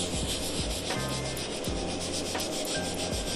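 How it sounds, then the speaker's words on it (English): A multi-purpose brush scrubbing a Fendi sneaker, giving close, rapid, raspy back-and-forth bristle strokes in a steady rhythm with no other sounds. "I'm gonna use my multi-purpose brush today."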